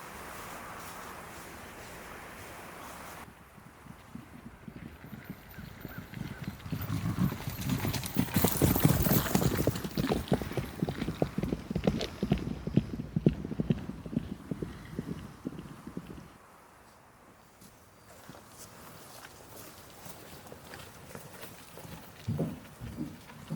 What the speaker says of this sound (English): Go find the horses.